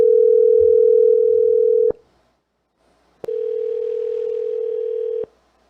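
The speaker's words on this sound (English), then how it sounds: "Pick up the phone, because we calling you back." A telephone call ringing back on a handset, a steady electronic tone sounding loudly for about two seconds, then a pause, then another two-second tone, close and clear.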